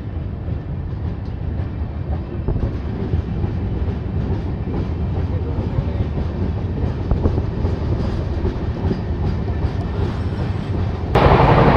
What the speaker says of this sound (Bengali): দু মিনিট দাঁড়ানোর পর সাক্ষীগোপাল থেকে ট্রেন ছেড়ে দিয়েছে।